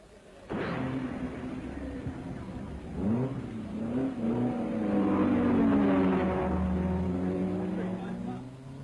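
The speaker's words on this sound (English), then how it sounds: "Les Leston is sent back into the race" A Triumph TR4 race car pulls away from the pits at the 1961 Le Mans 24-hour race, its engine note rising and revving through the gears, loud and near, over a crowd's murmur.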